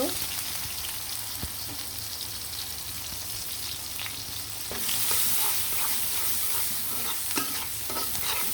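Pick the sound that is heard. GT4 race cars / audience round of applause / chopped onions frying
chopped onions frying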